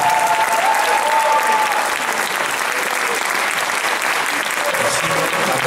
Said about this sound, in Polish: I jeszcze raz gorące brawa i artyści wrócą na scenę.